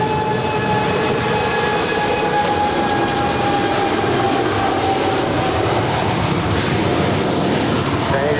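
Atlas Air 747-8 freighter departing LAX, a broad continuous jet engine roar with a faint high whine, steady and loud throughout, heard from the airport.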